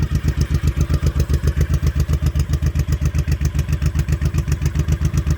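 A 2005 Honda Shadow motorcycle engine idles steadily nearby, a deep, even thumping pulse with a slight mechanical clatter that repeats without a break throughout.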